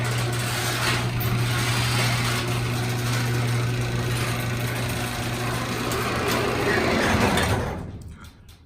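A motorized garage door opener runs steadily with a loud, continuous mechanical hum and rumble, then stops abruptly near the end, leaving near silence.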